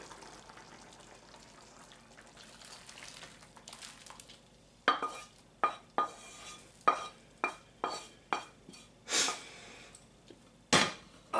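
Pan contents tipped into a pot of borscht with meat, dill and bay leaves: soft scraping at first, then a run of clinks and wet stirring scrapes, close and moderately quiet.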